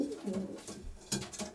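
A pigeon coos close by while perched on ventilation troughing, soft low throaty calls repeating in a short run with faint background noise.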